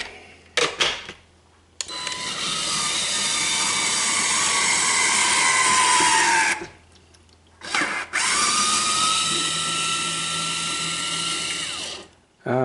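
A motorized hands-free Vinci citrus juicer squeezes oranges, giving off a loud, steady mechanical whir for several seconds, pausing, then whirring again, with brief clicks and clunks between cycles.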